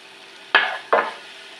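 Oil, tomato paste and garlic powder being stirred together in a pan, two short scraping sweeps with a soft sizzle, close and fairly loud, no talk.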